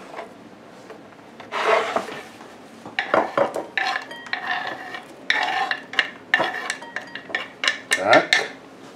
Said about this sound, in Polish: Teraz pokroimy cebulkę w kosteczkę